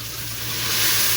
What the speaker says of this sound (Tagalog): Lagyan ko konting tubig.